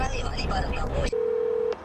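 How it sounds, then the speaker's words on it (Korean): After a short stretch of talking, a telephone sounds a single steady electronic ringing tone that lasts just over half a second, close and clear. "전화 온다"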